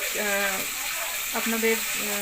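Curry leaves and spice masala with ginger-garlic, tomato sauce and chilli sauce fry in a pan, a steady close sizzling hiss with a voice talking over it throughout.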